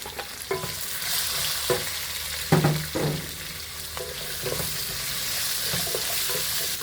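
Onion, garlic, green chilli and ginger sautéing in a pan with a soft continuous sizzle, punctuated by irregular scrapes and knocks of a spoon stirring close by.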